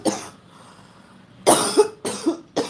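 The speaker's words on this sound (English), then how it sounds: "Hold on, I got a cough." A person coughs close by: one cough at the start, then after a quiet pause a cluster of three harsh coughs, with no speech.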